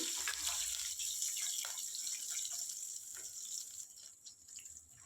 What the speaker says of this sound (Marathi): पाणी घालायचं वरून